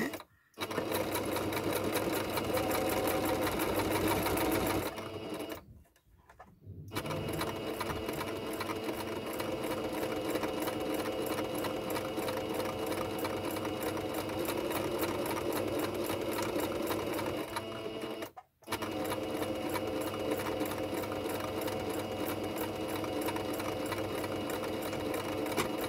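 A sewing machine runs close by in long steady stretches of fast, even mechanical whirring and rattling, stopping briefly twice before starting up again, with no voices over it.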